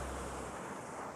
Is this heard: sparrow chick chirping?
no